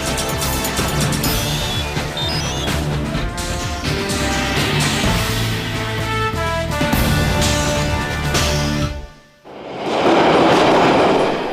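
A London Underground train rumbles and screeches through King's Cross station at rush hour with shrill metallic tones, dips briefly, then returns in a broad roaring wash.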